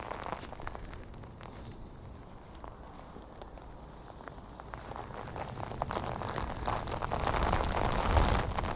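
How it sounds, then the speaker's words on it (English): Steady rain patters on surfaces nearby on the Neath estuary shore, with a low rushing wind underneath, growing a little heavier toward the end. "combination of wind and rain in shorts is a bit trying."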